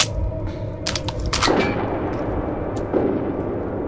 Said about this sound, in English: Gunfire down here.